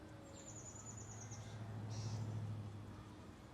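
Birds chirp outdoors in sunlight with children playing nearby: a few high, thin calls come in short runs early on and again briefly midway, faint over a steady low hum and background ambience.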